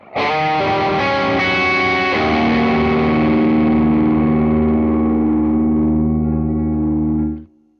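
A single loud distorted electric guitar dominant seventh sharp nine chord struck and left ringing, sustaining with a gritty, dirty tone for several seconds before cutting off.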